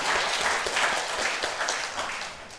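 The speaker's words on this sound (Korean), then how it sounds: "박수로 큰 영광 올리겠습니다." A church congregation applauds during a Sunday morning service, a dense, sustained round of clapping from many people filling the room, loud and steady throughout.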